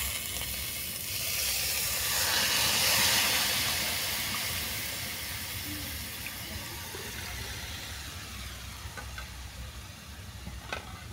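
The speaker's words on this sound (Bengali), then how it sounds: "যে বাটিতে আমি 1 বাটি চাল নিয়েছিলাম সেই বাটিতে দ্বিগুণ জল দিয়ে দিচ্ছি" Water poured into a pot of fried rice for mango pulao, a broad steady rushing hiss that swells and then fades into a softer simmering sizzle with a few light clinks, no voices.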